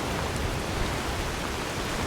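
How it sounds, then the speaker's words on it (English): Steady, dense hiss of rain falling in Skyrim with the Azurite Weathers mod, an even broadband wash with no breaks across the whole short stretch. "you'll notice we're getting some rain"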